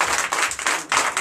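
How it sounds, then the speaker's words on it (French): A short burst of applause at a Sunday church service in Comè, Benin, with hands clapping in quick, uneven bursts from a group nearby. "que je vous demande d'applaudir."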